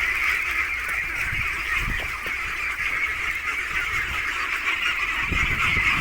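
Geese honking repeatedly nearby, a dense overlapping chorus of nasal calls held steady over a low rumbling background.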